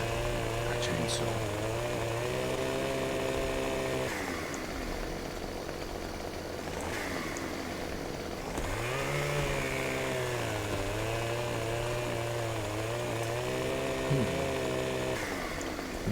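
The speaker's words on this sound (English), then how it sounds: "A chainsaw." Chainsaw in the video game Farming Simulator 2015, a loud motor that idles, revs up and drops back in several cycles, with brief clicks between.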